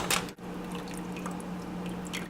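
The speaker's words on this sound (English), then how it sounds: "I'm gonna start by taking my sugar, putting it over medium heat, and then just adding my water to it." Water pours into sugar in a pan over medium heat for frosting, a soft liquid trickle and splash with wet squishy textures, close and fairly quiet.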